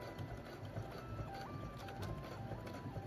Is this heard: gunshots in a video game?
no